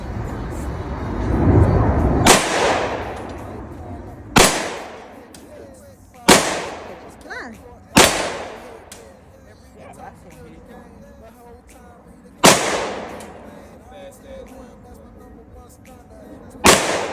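Six loud, sharp gunshots from a 1952 CZ 52 pistol fired outdoors at a pumpkin, spaced irregularly over about fifteen seconds, each with a ringing decay, and a voice talking between shots.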